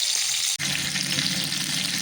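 Hot oil sizzles steadily with a bright crackling hiss, briefly interrupted by a quick break before the frying continues loud and close.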